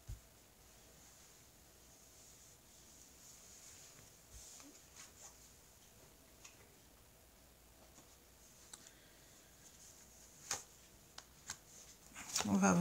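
Tarot cards are shuffled for a reading, making quiet riffling and soft clicks that grow louder and busier toward the end against a hushed background.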